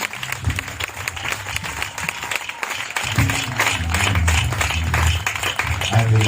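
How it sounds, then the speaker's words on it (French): A crowd applauds and cheers at a prayer night at the Lambaréné town hall, with dense continuous clapping and a low rumble of voices and music that swells and grows fuller partway through. "Sous les acclamations."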